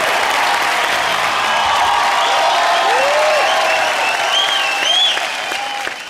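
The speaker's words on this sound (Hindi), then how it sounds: "जोरदार तालियां हो जाए भारती और करण के लिए" Loud, sustained applause from a studio audience at a Hindi TV comedy show, a dense wash of clapping with crowd noise and a few bright rising whistle-like tones sweeping over it near the end.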